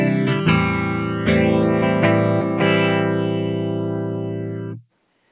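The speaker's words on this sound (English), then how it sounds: "It'll work with the lag deck in order to now create flanging sounds with a little bit of wobble" Sustained harmonic tone run through a Deco tape saturation and doubletracker pedal set for tape flanging, with slow wobbling sweeps across the sound for about five seconds before it cuts off.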